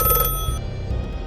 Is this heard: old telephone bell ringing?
yes